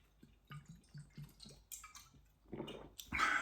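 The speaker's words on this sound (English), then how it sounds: "just another sip of water." Close, quiet sips of water from a glass, a series of small wet slurps and gulps with soft drip-like clicks, ending in a louder swallow and a short breathy exhale.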